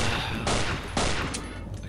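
Gunfire in the horror video game Afraid of Monsters: loud, close shots in quick succession over a dense, noisy background.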